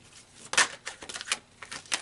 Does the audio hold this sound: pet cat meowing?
no